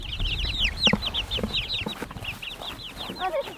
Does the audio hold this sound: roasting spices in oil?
no